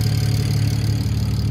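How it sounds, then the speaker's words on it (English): A BMW 335i built to 500 hp idles up close with a steady low hum and a fast, even ticking from its loud fuel injectors. No voices are heard. "the injectors are super loud, but that's normal"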